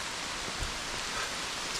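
Steady rain falls over a creek trail flooded with runoff, a dense, even hiss of drops with no thunder, close and uniform throughout.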